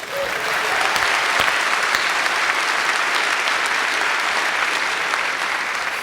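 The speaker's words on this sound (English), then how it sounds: "Give yourselves a big round of applause." Steady, dense applause from a large audience, sustained at an even level throughout without a break.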